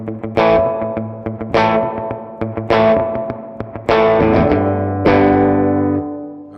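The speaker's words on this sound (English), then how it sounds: "So that's spring reverb." Electric guitar played through a spring reverb pedal, loud and close: five strummed chords struck about a second apart, each ringing out with a splashy, lingering reverb tail, no voices.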